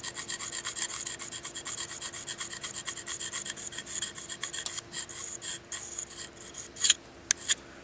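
A knife blade scrapes steadily along a magnesium fire-starting stick, shaving off flakes in a fast, even rasping rhythm up close, ending with a few sharper scrapes.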